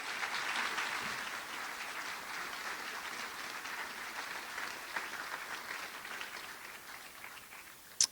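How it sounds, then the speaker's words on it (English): An audience gives a round of applause at a tech talk, a soft, even spread of clapping from a distance that slowly thins out, ending with a brief sharp knock. "So round of applause for Garth Naaman and for Chris."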